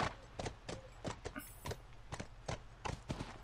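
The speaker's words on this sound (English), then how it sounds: "Horse." A horse in The Last of Us clip-clops along at an easy walking pace, with faint, soft hoofbeats in an irregular rhythm against a quiet background.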